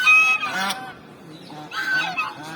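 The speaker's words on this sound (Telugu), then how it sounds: "మీరు ఎప్పుడైనా బాతులను చూసారా?" Ducks call repeatedly up close, a series of nasal honking quacks in uneven bursts with short gaps between them.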